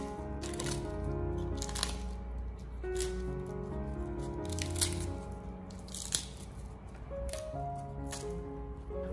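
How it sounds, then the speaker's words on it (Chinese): Cabbage leaves torn into small pieces by hand in a kitchen, giving repeated crisp crunching and squeaky ripping sounds in short bursts, close and fairly quiet. "包菜它最好的处理方法就是用手撕"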